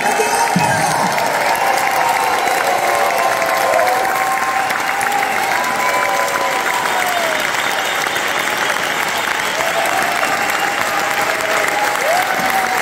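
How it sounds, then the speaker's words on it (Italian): A theatre audience at the Teatro delle Muse applauds the orchestra in a dense, sustained ovation lasting the whole stretch, with scattered cheers and voices riding over the steady clapping. "Vi chiederei di prolungare questo meraviglioso applauso per la stupenda orchestra di Fiat."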